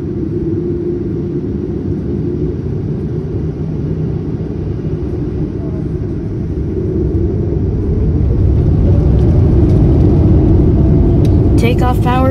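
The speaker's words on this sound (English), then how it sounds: "Power set, and we are rolling down runway 25 right." A United Boeing 787-9 rolls down the runway for takeoff, its engines a steady loud rumbling roar that builds in power toward the end, heard from inside the cabin with a faint rattle.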